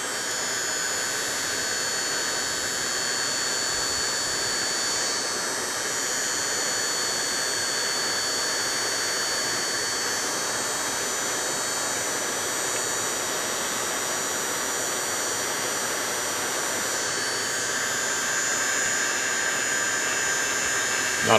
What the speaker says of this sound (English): Weller heat gun.